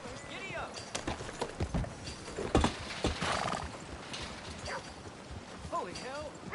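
A horse in Red Dead Redemption 2 clip-clops and gallops with rhythmic hoofbeats, with snorts and a whinny mixed in. Game music and ambience play underneath, and a voice speaks briefly.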